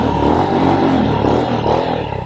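A custom Royal Enfield Himalayan FE motorcycle built by Baxter Custom Works pulls away: a loud, steady engine drone with a gritty exhaust rumble, close by and continuous, with no talking.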